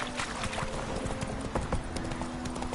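Hooves of the horse Roach clip-clop in a quick galloping rhythm across ground in The Witcher 3 video game, close and clear with light ambient game sound behind.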